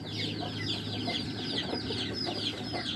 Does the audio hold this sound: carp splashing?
no